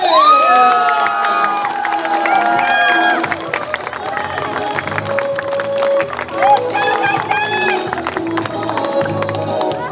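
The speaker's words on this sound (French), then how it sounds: "je vais avoir besoin d'un tonnerre d'applaudissements" A live audience cheers, shouts and claps for a game show host, loud excited voices and whoops crowding together, with some scattered clapping mixed in throughout.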